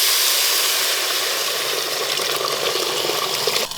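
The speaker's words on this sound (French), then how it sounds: "Pour finir cette préparation express, j'ajoute 3 fois plus d'eau que de riz." Water pours steadily into a pan of rice, a loud continuous close gush running nearly four seconds before cutting off.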